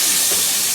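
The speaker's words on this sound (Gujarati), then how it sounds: "તો બટેકાનો વઘાર મામા નાખે છે." Potato pieces dropped into hot tempering oil for an eggplant and potato curry in a village kitchen, giving a loud, steady, broad sizzling hiss close by.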